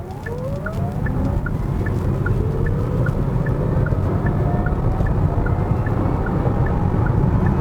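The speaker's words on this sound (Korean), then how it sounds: "일단 시작부터 급가속을 먼저 해보도록 하겠습니다." A Hyundai Kona Electric accelerates hard in sport mode with the air conditioning on, its electric motor whine rising steadily in pitch over a continuous rush of road and tyre noise, with a faint repeating tick throughout.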